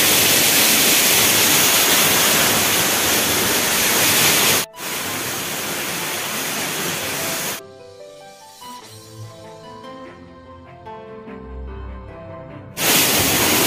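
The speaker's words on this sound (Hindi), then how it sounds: "ये देखो है ना, जस्ट अपने पीछे में रानी झरना" Rani Jharna waterfall in the Korba forest roars as a loud, steady rushing hiss. It drops away midway to a quieter stretch with tonal music-like sounds, then returns at full strength.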